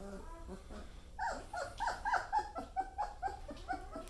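German Shepherd puppies, three and a half weeks old, in a whelping box, whimpering and yipping in short repeated high cries, close and fairly soft, with faint low noise beneath.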